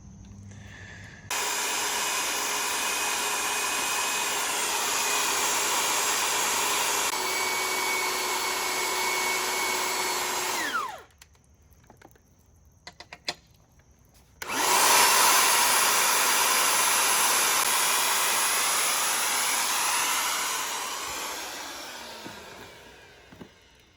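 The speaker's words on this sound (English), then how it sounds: "he's gonna thread the end of that pipe with the rigid machine" A Ridgid 600 power threading machine cuts threads onto the end of a pipe while converting a boiler, a loud steady motor whine that runs continuously, stops for a few seconds, then resumes and gradually tapers off.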